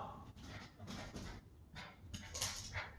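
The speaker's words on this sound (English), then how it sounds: "You need to stop that barking, okay?" A pet dog whimpering and letting out short barks and yips indoors, in several separate bursts at moderate distance, fairly faint overall, with no talking.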